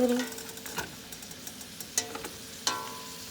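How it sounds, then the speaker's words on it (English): Cabbage frying in a pan as it is stirred, with a quiet, steady sizzle beneath a few sharp scrapes and clinks of the utensil against the pan, two of them louder near the end. "Then you just stir it around."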